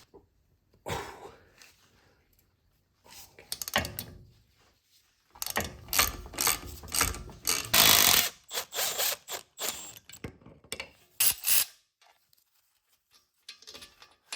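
A ratchet on a wobble extension works the front wheel hub bolts of an xDrive BMW F2x/F3x, with bursts of rapid clicking pawl ratcheting separated by pauses, close and fairly loud, along with clanks of tools.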